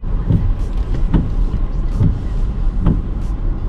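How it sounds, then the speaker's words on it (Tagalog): Gridlocked big-city traffic in Canada, heard from inside a car as a constant low engine and road rumble with several short bumps or clunks at regular intervals. "Ito ang buhay dito sa big city oh. Traffic, gridlock."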